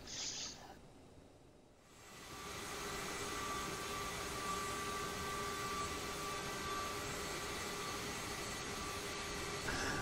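Twin jet engines of a CRJ 700 in Microsoft Flight Simulator 2020 spool up to takeoff thrust, a steady broadband roar swelling after a brief dip and then holding loud and constant with a faint high whine, no talk.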